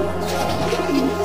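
Bhopali Lasri pigeons give steady, loud guttural coos close up over a constant low hum, with no voices.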